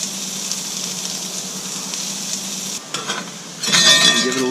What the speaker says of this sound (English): And give it a little stir here.